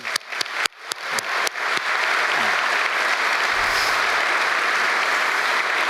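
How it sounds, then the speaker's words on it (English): Applause from a conference audience at a tech community event in Louisville, Kentucky, opening with several sharp individual claps that quickly swell into a full, steady round of clapping filling the room. "Let's give our ASIC community in Louisville a round of applause"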